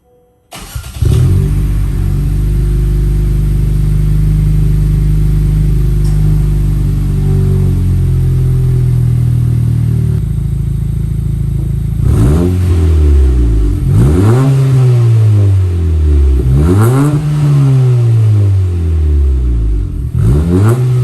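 A 2022 Honda Civic Si engine starts and idles with a deep rumble through a newly installed aftermarket front-pipe and cat-back exhaust, then revs up and down several times in repeated rising and falling swells.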